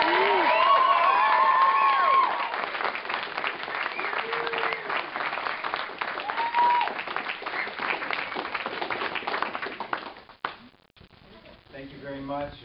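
Theater audience applauds and cheers before a stage production of The Princess Bride, dense clapping with scattered whoops and whistles, loudest at the start, then tapering off as a voice begins speaking near the end.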